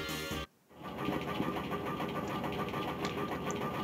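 An airship engine in Final Fantasy IX chugs steadily near the Fire Shrine, a mid-pitched mechanical drone with a rapid rattling pulse that cuts out briefly at the start, then runs on evenly at moderate volume.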